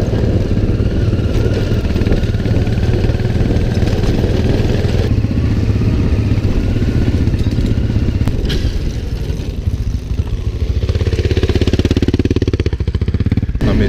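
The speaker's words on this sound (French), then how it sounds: "je crois que je retrouve ma moto qui fonctionne là" Honda Africa Twin motorcycle engine running roadside on a mountain pass climb after repairs, a loud steady mid-pitched engine drone with clattering mechanical texture throughout, rising slightly near the end.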